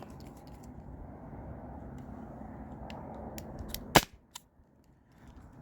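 A Byrna SD launcher powered by a CO2 cartridge fires one sharp, loud shot up close, followed by a fainter click, over a steady low background hum.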